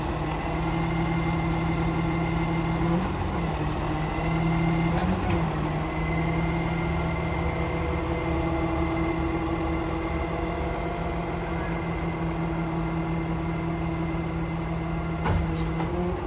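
Summit 12629 crane mounted on a 2014 Freightliner M2 with a Cummins ISC runs its boom out to full extension, giving a steady idling engine drone with a hydraulic whine. A few brief clicks occur; there is no talk.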